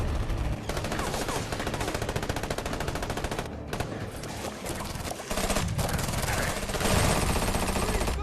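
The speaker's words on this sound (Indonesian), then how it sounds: "Murphy yang memantau di kantor polisi merasa tidak terima karena para polisi menembaki Jack." Police gunfire in a movie shootout: dense, rapid automatic bursts and shots rattle almost continuously at full loudness, with a brief lull near the middle before the firing resumes and swells louder toward the end.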